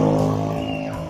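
A steady motorcycle engine drone with a pitch that slowly shifts, running close by, fairly loud and continuous throughout.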